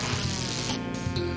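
Bees buzzing in the video game Crash Bandicoot 2: Cortex Strikes Back, a steady electronic drone with game music tones underneath, brief and continuous.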